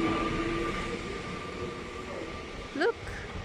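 A train rumbles steadily past at a distance, with a brief rising metallic squeal of wheels near the end.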